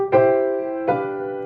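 Two sustained chords sound one after the other, the second entering under the first's fading ring, moving from octave to flat seventh in a 4/2 position, shifting from a stable sound to a tenser one.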